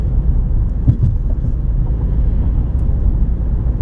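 A car cruises along suburban roads in Westland and Canton, Michigan, giving a steady low engine and tire rumble throughout with no talk.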